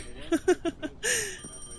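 Rapid electronic bell rings, four quick bursts and then a longer tone, from a telephone in a late-night morgue video game, fairly clear and close, with a voice speaking alongside.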